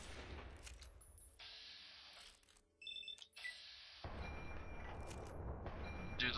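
Rifle fire from the Lincoln repeater in Fallout 3: several loud, sharp shots within a burst of game combat noise, with alarm-like tones and a dense, steady rumble building toward the end.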